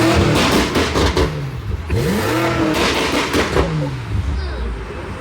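A blue Bentley's engine revs up and down several times close by, its pitch sweeping in rising and falling arcs, loud against people talking and shouting nearby.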